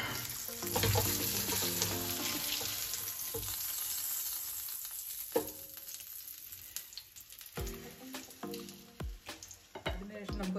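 Fish fries in a pan with a dense, steady sizzle, interrupted now and then by short clinks and scrapes of a utensil against the pan.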